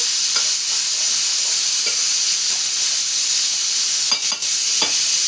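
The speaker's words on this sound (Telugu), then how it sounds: "పప్పు తాలింపు అయిపోతుంది, పప్పు కూడా తాలింపు వేసేస్తాను" Dal tadka hisses and sizzles steadily in hot oil, a dense continuous frying crackle with a few brief sharper spits near the end and no talking.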